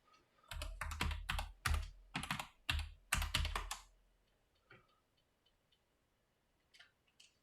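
Close, crisp typing on a computer keyboard as a search term goes into a database search bar, a quick burst of clustered keystrokes followed by a few sparse clicks in near silence.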